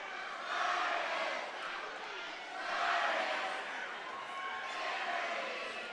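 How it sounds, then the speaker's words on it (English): A high school boys' basketball crowd in a gym roars and cheers in swelling waves, rising and falling a few times, while a commentator speaks over the noise. "As the cheerleaders try to get the crowd going. And it's a great crowd too"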